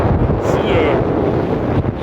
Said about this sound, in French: Il y a beaucoup de vent, désolé, je sais pas si tu m'entends bien